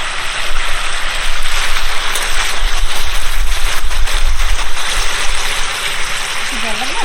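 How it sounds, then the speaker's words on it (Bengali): Water pours steadily into a cooking pot of mixed winter vegetables for pachmisali, a continuous close splashing and rushing that holds for several seconds. "এবার আমি দিয়ে দেবো জল"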